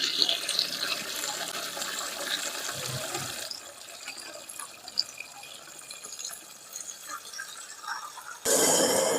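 Fish belly is rinsed under a running tap, a quiet, steady stream of water with drips and splashes that briefly gets louder near the end.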